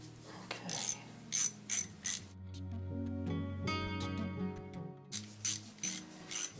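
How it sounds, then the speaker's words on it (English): An 8mm socket on a ratchet wrench turning a bolt on a motorcycle engine case, with several bursts of quick clicking close by, broken by a longer stretch of a humming tone before the clicking picks up again. "let me go and get my 8mm socket on that"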